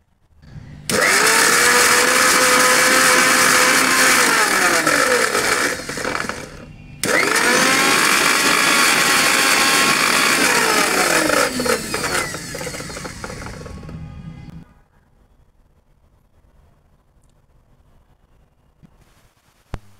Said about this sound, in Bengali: এটা আমি ব্লেন্ডারে নিয়ে এটা ব্লেন্ড করে বানাবো